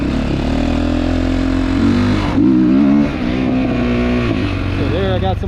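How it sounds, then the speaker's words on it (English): A Kawasaki GPX300R motorcycle engine revs hard toward the top end, its pitch rising and falling in a loud, close drone, with popping heard near the high revs. "I got some pops on the top end as I rolled on hard"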